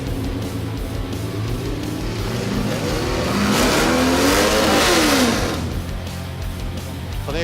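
An off-road competition truck's engine revs hard as it climbs over a rock during a Tuff Truck Challenge, the roar rising and falling in pitch and peaking loudly midway before easing off, with no voices.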